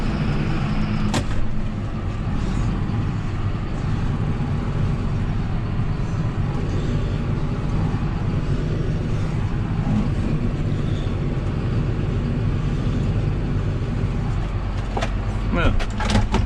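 A John Deere 6930 tractor pulling up on a farm during manure delivery, its engine a steady, loud, close rumble running throughout with brief knocks and a voice heard near the end.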